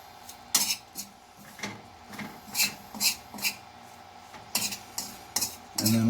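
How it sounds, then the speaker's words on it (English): A utensil stirs tobacco moistened with pineapple juice, making repeated close scraping and clinking strokes in an irregular rhythm, with no talking. "Put a little more pineapple juice. Just kind of stir it around."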